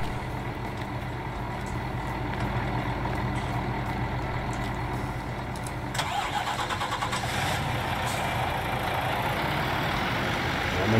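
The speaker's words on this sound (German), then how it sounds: "LKW kurz wegfahren." A truck engine in Landwirtschafts-Simulator 19 cranks and catches, then runs at a steady idle, its rumble swelling louder partway through with a rattling mechanical texture and no talk over it.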